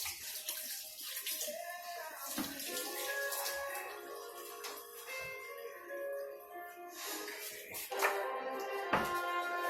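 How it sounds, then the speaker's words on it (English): Running tap water streams steadily at a sink while hands are rinsed during plantain prep for Puerto Rican pasteles, a continuous splashing with some clinking in the background. "Rinse my hands off."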